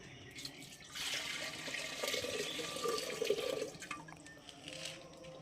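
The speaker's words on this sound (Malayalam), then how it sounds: "നമുക്ക് വെള്ളം ഒഴിച്ചു കൊടുക്കാം" Water pours into a pot to boil four large potatoes, a soft, fairly faint splashing stream that swells for a few seconds, then trails off into quiet kitchen noise.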